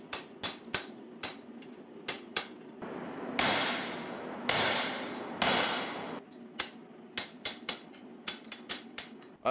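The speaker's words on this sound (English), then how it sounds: "I'll use the cutoff tool to chop the knife off of the bar" Hammer blows on a steel knife bar over a cutoff tool during forging, sharp ringing metallic strikes in irregular bursts and a few heavier sustained impacts, close and loud with no talk.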